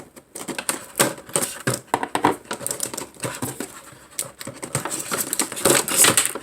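Blade slicing through plastic packaging of a Stan Winston Creatures Realm of the Claw toy figure, with close crinkling, tearing and scraping in irregular bursts over several seconds, no talk.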